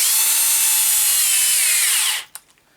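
A power drill-driver whirs steadily as it drives a screw into plastic on a KKPIT K1 series part, then cuts out abruptly, followed by a couple of faint clicks.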